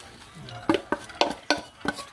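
Ground meat is stirred in a frying pan, with a faint sizzle under a handful of sharp scraping knocks of a utensil against the pan, close and without talk.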